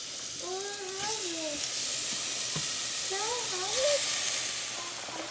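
Chopped plantain pieces going into a hot pot for an East African dish, giving a steady close sizzle and hiss while someone talks over it.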